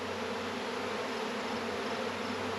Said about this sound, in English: there's just bees on the walls of this box